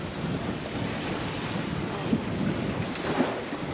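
A sailboat runs at about five knots before a following swell off the Normandy coast, with steady wind rushing over the microphone and water washing along the hull, close and continuous.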